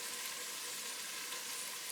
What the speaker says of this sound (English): And then I'll add in my 2 cups of beef broth.